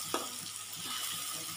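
Chili paste for Padang-style fried fish cooking in hot oil with turmeric leaves, a steady close sizzle with a brief stirring clink at the start, continuous and unbroken by speech.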